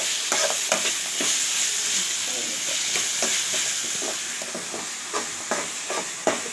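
Turkey berries sauté in oil in a pan for a spicy tamarind curry, giving a steady broad sizzle broken by repeated scraping stirs of a spoon, close and moderately loud.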